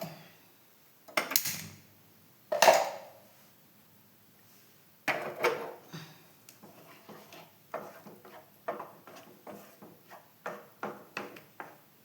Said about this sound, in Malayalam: അപ്പം ഞാനിത് അടുപ്പത്ത് വെക്കട്ടെ, ഗ്യാസ് കത്തിച്ചിട്ട്